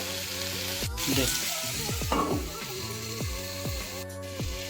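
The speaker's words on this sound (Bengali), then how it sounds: "সমস্ত সবজিগুলোকে ভালোভাবে ভেজে নিতে হবে। সবজিগুলোকে নেড়ে চেড়ে নিয়ে" Mixed vegetables fry and get stirred in a pan, with a steady hiss of sizzling oil and occasional scraping, while a voice talks faintly in the background.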